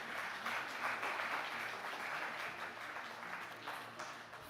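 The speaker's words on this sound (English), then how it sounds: "A round of applause" A conference audience at a banking and finance annual meeting applauds steadily throughout. The applause holds an even, sustained level from start to finish, with no voices breaking through.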